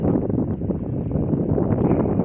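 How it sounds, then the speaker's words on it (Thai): Steady wind roars across open rice paddies in the dry-season fields, a broad continuous rush buffeting the microphone with no break, loud and close throughout. "คักลมแน่"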